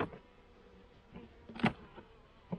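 Honeybees buzzing inside a hive opened for a winter inspection in Pennsylvania, a low steady drone with a louder burst of buzzing near the middle and brief flare-ups, close by with no talk.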